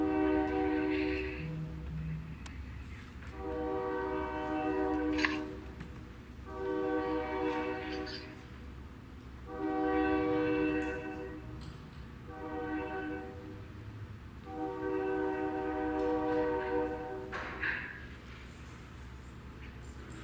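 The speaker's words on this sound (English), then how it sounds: "That's a train on our end," A passing train sounds its horn in a series of blasts: five or six long, steady, multi-tone calls separated by short gaps, heard from a distance over the low background hum of a school board meeting.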